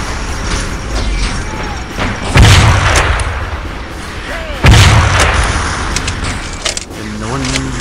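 Heavy gunfire and explosive booms in the Halo SPV3 mod land as two big blasts among ongoing battle noise, loud and close, with people talking throughout.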